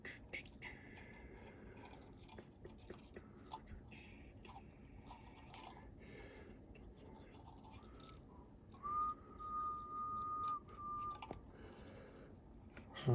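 A person whistles a tune in short, thin phrases, one sustained note standing out near the end, fairly faint over a quiet indoor background of small tapping and handling noises.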